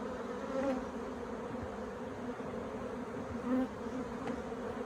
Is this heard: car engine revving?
no